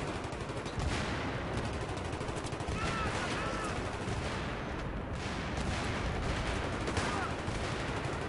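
Sustained automatic gunfire sprays continuously through a Battlefield 3 multiplayer match, dense rapid bursts filling the whole stretch with a steady loud rattle and faint game sounds mixed in.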